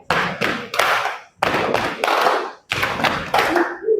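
Students in a classroom clap their hands in rhythm, three quick bursts of sharp, close claps separated by brief pauses, each cluster landing with a hard, percussive attack and no talking over them.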